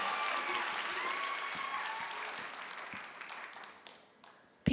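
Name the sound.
audience applause at a school theatre festival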